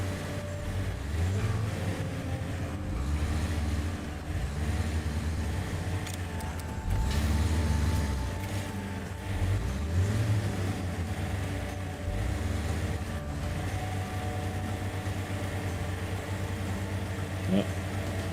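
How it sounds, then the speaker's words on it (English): Truck engines from the Expeditions video game drone steadily with rhythmic low surges of revving, loud and continuous throughout, with no speech over it. "No, the engine sounds definitely sound the same."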